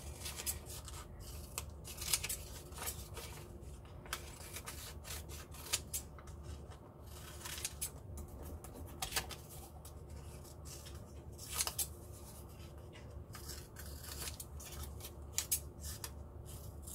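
Scissors snip around cut-out paper letters in a mixed-media image transfer project, a close, quiet run of rapid crisp clipping strokes with brief pauses, no talk over them.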